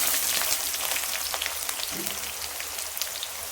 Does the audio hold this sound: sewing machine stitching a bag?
no